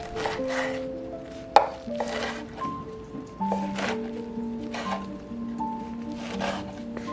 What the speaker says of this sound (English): Chop the kale into bite-sized pieces.